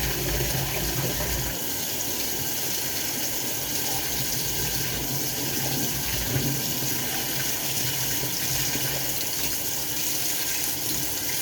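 Tap water gushes steadily into a sink to build up soapy suds, a continuous loud splashing rush that holds unbroken from start to finish with no talk.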